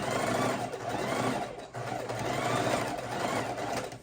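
A sewing machine stitches a fabric Christmas mitten in a steady, loud, continuous mechanical run with a brief pause midway, close up and alone without talk.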